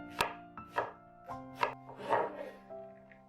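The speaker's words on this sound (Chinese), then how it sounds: "再切一个洋葱，最好切成丁" Onion diced with a knife on a board, about six distinct close chopping knocks in an irregular rhythm, each a short sharp thud, in an otherwise quiet kitchen with no talking.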